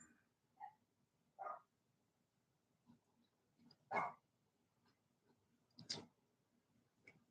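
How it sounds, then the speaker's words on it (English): A dog barks several times outside at a distance, spaced out irregularly, with faint ticking and quiet background between barks. "He's barking out there for me to go take him for a car ride"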